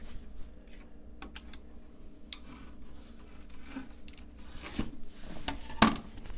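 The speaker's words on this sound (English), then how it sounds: "Just going to score it right along the edge here, flip it over, and it just will snap right on that joint." Utility knife scoring a vinyl flooring plank with a rubber backing over concrete, with faint scraping strokes and light taps followed by a single sharp snap near the end, close and quiet.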